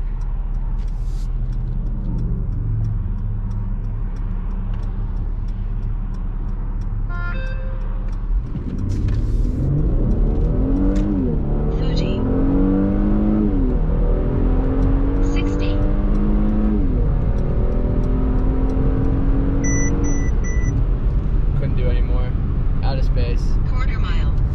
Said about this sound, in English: Let's just give it the beans and go.